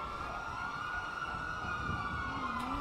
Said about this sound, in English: Bro, are these fucking sirens?